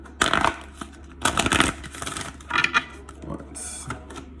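A tarot card deck is shuffled up close in a few irregular bursts of dry riffling and papery slapping, separated by short pauses and quieter rustles.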